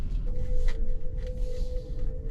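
A Kia Bongo 3 EV electric truck pulls away and drives with its electric motor giving a thin, steady high-pitched whine that holds over low road rumble, fairly close and moderate in level.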